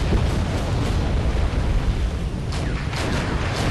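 Missile launches and explosions fill a Wargame: European Escalation battle as a dense, loud rumbling roar of booms and blasts, with sharper bursts cracking through near the end.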